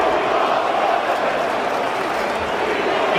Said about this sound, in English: Take a listen to the crowd during the game.